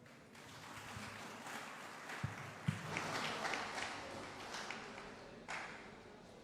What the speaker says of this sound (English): give another round of applause, please